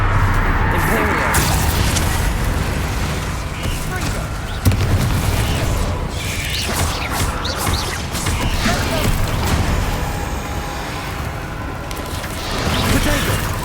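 Spell explosions from Bombarda in the Hogwarts Legacy video game burst through dense, continuous combat noise, with heavy low booms recurring over nearly fourteen seconds of busy effects and speech-like voices.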